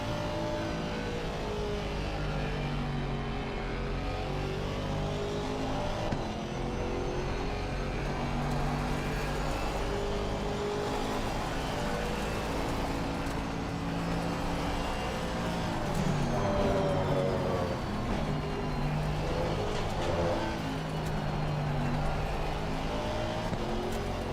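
A Mercedes-AMG GT4 race car at Spa in Assetto Corsa Competizione roars steadily, its engine note climbing and dropping through gear changes, loud and continuous with no voices over it.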